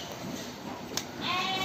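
A lamb bleats near the end, a bright rising bleat close by, preceded by a brief sharp cry, over busy background noise during treatment of its injured eye.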